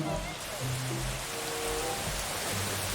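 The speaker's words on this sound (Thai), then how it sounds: "มันเป็นฝนตก" Steady rain hiss in the video game Mini World, soft and continuous, with faint low tones underneath.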